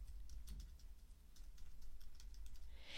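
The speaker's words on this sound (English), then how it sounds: "And then I'll start typing." Typing on a computer keyboard while adding text to an image in Photoshop, heard as a quiet, steady run of light clicking keystrokes with no talk.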